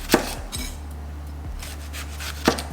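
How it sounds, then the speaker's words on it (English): A knife thinly slices a small amount of red onion on a board, giving a few sharp cuts at the start and near the end, with quieter sliding contact in between. "thinly slice just a small amount of red onion"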